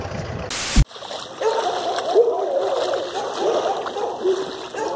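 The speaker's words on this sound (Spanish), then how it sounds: "Es impresionante el caudón de agua que nos ha entrado, como nunca." Floodwater rushes through a flooded town in a steady, broad churning roar that fills the scene, with a sharp splash at the start and voices talking faintly underneath.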